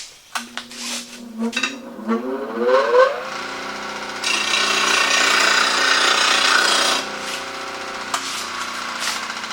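Woodturning roughing gouge pressed against a spinning bench grinder wheel, a loud steady grinding rasp with a shifting tone, preceded by a few clanks and a rising whine as the wheel comes up to speed.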